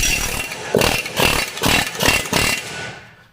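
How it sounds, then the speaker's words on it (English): Pickler Vibra hammer shocking a driveshaft loose on a 2018 Ford Focus 1.0 EcoBoost, five loud rapid hammering bursts in a steady rhythm, close and harsh, then fading out. "And that is the Pickler Vibra hammer"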